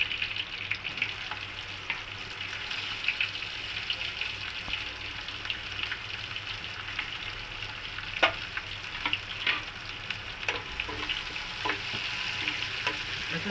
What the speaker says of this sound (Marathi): हिंग पाव चमचा घेतला आणि आता आपण यावर कढीपत्ता लसूण आणि मिरची हे आधी घालूया